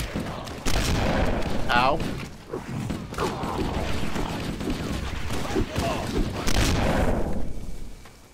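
Gunfire in the video game Cursed Halo, dense and continuous with booms and mechanical clatter, and voices talking over the steady battle noise.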